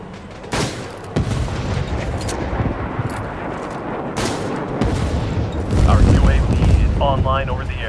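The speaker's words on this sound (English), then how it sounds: "Friendly airstrike incoming." Airstrike explosions in the video game World War 3 come as a series of heavy booms and rumbling blasts with scattered gunfire, loud and continuous, and a voice is heard over part of the battle.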